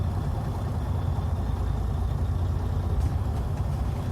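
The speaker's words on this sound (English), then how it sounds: "now with the engine running, I'm going to press the clutch and I'm going to do the first gear" A Freightliner Cascadia truck's engine runs steadily in first gear with the clutch worked, a low, even, close rumble with no talk over it.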